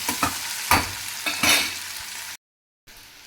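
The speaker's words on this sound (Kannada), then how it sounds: "ಹಾಕಿ 2ರಿಂದ 3 ನಿಮಿಷ ಫ್ರೈ ಮಾಡ್ಕೊಳ್ಳಿ." Onions sizzling in oil in a pan while jeera rice is being made, a loud, steady close frying hiss broken by a few stirring scrapes, briefly cut to silence before the sizzle returns.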